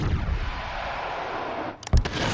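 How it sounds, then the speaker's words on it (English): Explosion in the game Call of Duty: Advanced Warfare, a loud rumbling blast that drops away, then a sharp bang and a renewed burst of rumble. "It seems like you're so close to the explosion, you want to be that close."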